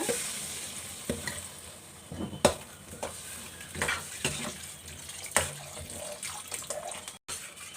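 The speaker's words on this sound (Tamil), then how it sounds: "இப்போது காய் வேகிற அளவுக்கு தண்ணி ஊற்றிடலாங்க" Water splashes into a hot pan of frying masala with bursts of sizzling and stirring clatter, intermittent scrapes over a constant frying hiss.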